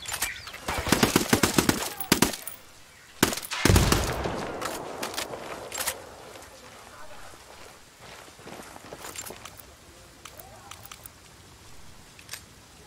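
Rapid gunfire in a video game firefight, with close, loud automatic bursts in quick clusters at first, followed by sparser, fainter shots and scuffling movement.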